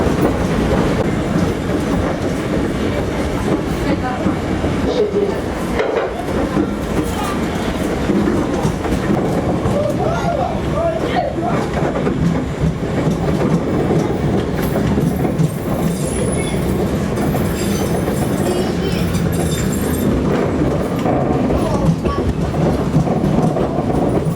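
Steady rumbling of a KTM tram in Pyatigorsk rolling along tracks, with continuous wheel noise and faint rhythmic clatter, close and fairly loud throughout.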